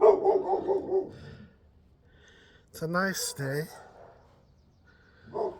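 A dog greets the neighborhood with a burst of close yelping barks, then a second short run of whiny barks, while someone speaks in a calm outdoor morning setting.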